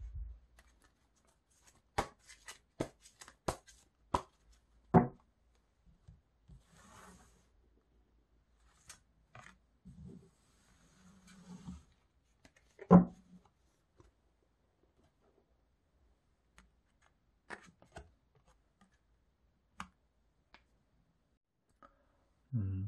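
Tarot cards are shuffled and one card is drawn close to the microphone, giving a burst of crisp card flicks and taps early on and then scattered quieter handling clicks. Brief soft speech sounds come in between.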